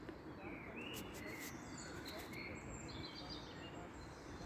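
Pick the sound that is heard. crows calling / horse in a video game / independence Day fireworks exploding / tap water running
crows calling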